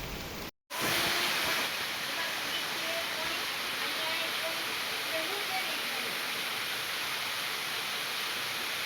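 Rainwater floods through a village in a steady, loud, broadband roar of rushing water that continues unbroken after a brief silent dropout near the start.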